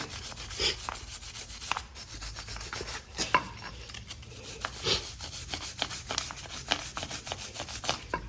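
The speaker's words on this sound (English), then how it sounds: "I'm gonna grab my wire brush. I'm gonna start cleaning." Wire brush scrubbing a rear brake caliper on a BMW 3 Series, a run of close, rasping strokes in an uneven rhythm with brief pauses, no voices.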